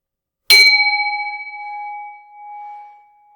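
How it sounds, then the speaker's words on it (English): A single bell is struck once, ringing out clearly with a bright metallic strike and then a long sustained tone that slowly fades away over a few seconds, alone in quiet surroundings. "just open your eyes when you no longer hear the sound of the bell"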